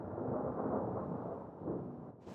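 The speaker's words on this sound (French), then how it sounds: "Tu crois qu'on va éviter l'orage?" Deep, rolling rumble of thunder from an approaching storm, a sustained low roar that swells and fades, heard without voices.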